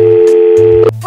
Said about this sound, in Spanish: Vamos a hacer una llamada.